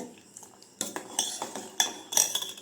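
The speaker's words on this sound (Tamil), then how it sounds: "நல்லா மிக்ஸ் பண்ணிக்கோங்க." Spoon scraping and clinking against a bowl while a strawberry ice cream mixture is stirred, in a run of close, uneven clinks and scrapes that grow busier partway through, with no talking.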